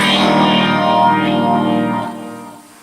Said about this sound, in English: There is a phaser that can be set pre or post distortion.